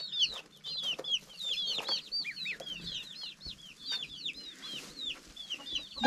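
Chickens in a Bulgarian homestead barnyard keep up a busy chorus of high, rapid clucks and chirps, close and overlapping in irregular bursts.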